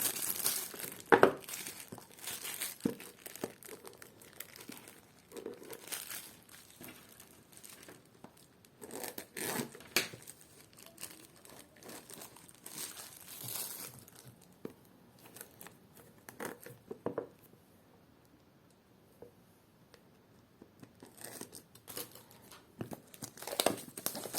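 Packaging of Lenovo QT82 true wireless Bluetooth earbuds being opened, with close crinkling and rustling of plastic and cardboard, scattered taps and tearing sounds over a continuous handling noise.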